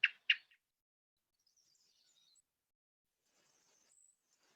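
Two sharp bird chirps played from a phone app ring out at the start, followed by faint, thin high twittering notes in near silence.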